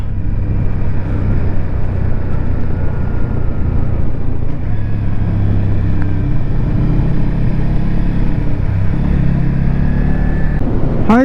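A Yamaha XSR125 motorcycle ridden along a winding mountain road with hairpin bends, its engine droning steadily and loudly at close range with slight pitch changes as it rides on, under heavy wind rumble.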